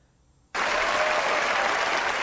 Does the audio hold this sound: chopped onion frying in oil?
no